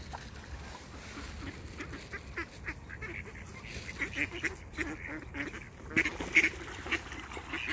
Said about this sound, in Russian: Дрались утки.